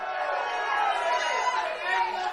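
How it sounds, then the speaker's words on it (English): A crowd cheers and chants a politician's name at his concession speech, a dense continuous roar of many voices close and loud, steady for a few seconds. "the crowd cheering his name"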